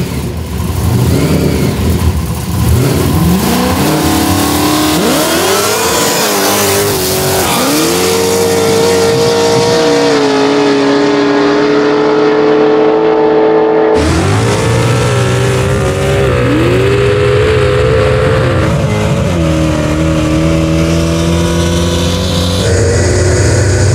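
An 850hp Holden VK Calais and a 900hp Ford Capri drag race heads-up, engines roaring loud and close through rising revs, gear changes and repeated accelerating sweeps, then a second hard launch with a renewed roar.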